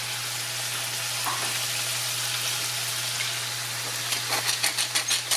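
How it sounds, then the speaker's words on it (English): Cabbage sizzles in a pan of bacon grease and corn oil in a Southern kitchen, a steady close frying hiss with a low hum underneath and a few sharper crackles near the end. "Let that sizzle for a minute"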